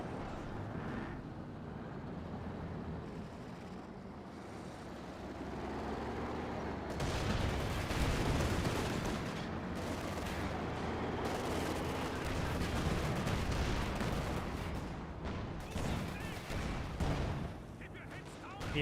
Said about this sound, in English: Great mortar hits there.